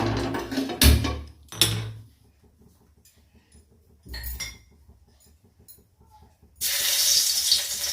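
Tap water runs into a kitchen sink or pan during home cooking, with short bursts of splashing and clinking dishes, a quiet pause, then a steady louder stream of pouring water at the end.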